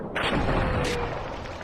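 A stun grenade goes off in the combat shooter Spec Ops: The Line, a loud broadband blast with a second burst about a second later, sitting over constant battle noise and rumble.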